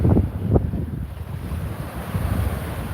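Ocean waves wash onto the beach at Fort Lauderdale, a steady close rush of surf with gusty wind noise over the microphone and no voices.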